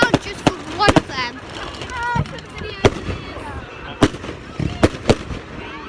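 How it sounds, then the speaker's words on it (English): Bonfire night fireworks go off as a string of sharp, irregular bangs and cracks, some close together. Excited voices of children and adults talk and shout between and under the blasts. "There's fireworks over their head."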